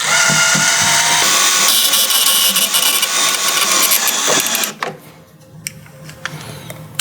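A power drill drives screws back into the body of a Jeep Wrangler JK while LED tail lights are fitted, whirring loudly and steadily for several seconds before stopping, followed by faint clicks and handling noises.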